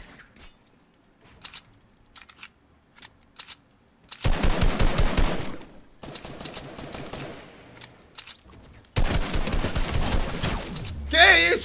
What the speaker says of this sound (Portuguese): eu nem sei de onde veio esse tiro